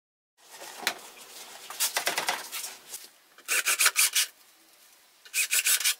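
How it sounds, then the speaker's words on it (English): Screws driven through a plywood top into the wooden slats of a garden table, heard as bursts of rasping, grinding driver noise separated by short pauses, close and fairly loud with no talk. "I put the foot back in place and put in the screws."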